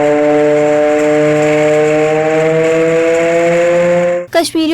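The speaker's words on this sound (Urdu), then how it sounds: "سائرن بجا کر 1 منٹ کی خاموشی اختیار کی گئی" A siren sounds in a district council hall in Vehari during a minute of silence on Kashmir Black Day. It holds one loud, steady harmonic wail, then warbles briefly in pitch as it ends.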